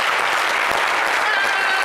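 A studio audience on a television talk show claps loudly and continuously, a thick wash of many hands with no pause over the short stretch.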